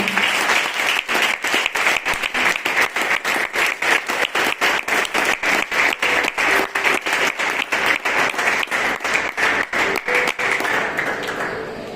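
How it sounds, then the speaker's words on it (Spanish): A church congregation claps in a fast, steady rhythm for several seconds, with sharp, regular claps over a warm crowd wash that eases off near the end. "yo le voy a pedir que le dé un aplauso allá al Señor"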